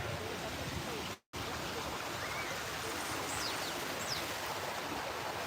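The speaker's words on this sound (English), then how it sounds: "you can actually hear the water and you can hear the breeze" Water runs steadily in the New York City woods, a continuous broadband rush that holds at an even level for the whole stretch, broken only by a brief silent gap near the start.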